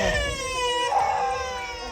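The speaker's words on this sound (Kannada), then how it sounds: "ನಾಯಿಗಳು ನೋಡು." Dogs howling and whining in long, wavering tones, fairly close, with a brief yip near the start and the howl swelling midway.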